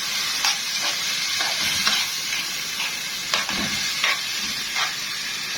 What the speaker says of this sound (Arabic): وانزل عليهم بمعلقتين صلصه من صلصه الطماطم واقلبهم بقى